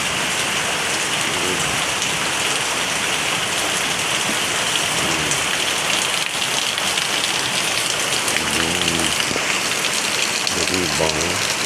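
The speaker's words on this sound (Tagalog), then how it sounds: "Lakas ng ulan guys." Heavy rain pours steadily in a dense, loud roar that never lets up, with faint voices murmuring underneath.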